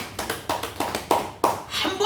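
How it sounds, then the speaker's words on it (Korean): Congregation in a Korean Baptist church service clapping together: distinct rhythmic claps in a steady beat, about six to seven strikes, moderately loud and a little reverberant, with speech underneath. "박수 한번 합시다."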